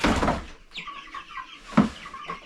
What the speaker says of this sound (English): These are all roosters, and they are pecking at me.